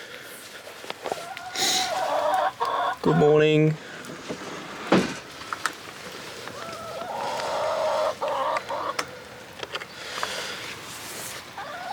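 Chickens being let out in the morning cluck and call a few times at close range, with light rustling and a person's brief greeting and voice between the bird sounds.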